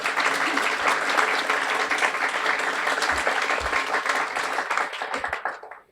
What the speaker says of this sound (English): Warm round of applause for Wendy.